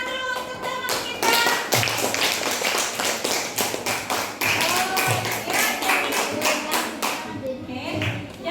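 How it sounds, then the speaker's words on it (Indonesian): A classroom gives a classmate a round of applause: dense, fast hand clapping from a group, close and loud, lasting several seconds with a few voices mixed in. "Tepuk tangan dulu untuk teman kita."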